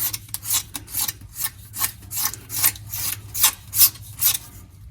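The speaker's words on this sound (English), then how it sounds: "take a nice clean razor blade, scrape backwards" A clean razor blade scrapes old gasket residue off a Jeep JK differential in a series of rhythmic rasping strokes, roughly ten of them, close and fairly loud over a faint steady hum.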